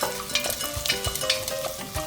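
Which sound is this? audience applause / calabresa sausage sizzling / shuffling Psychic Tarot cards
calabresa sausage sizzling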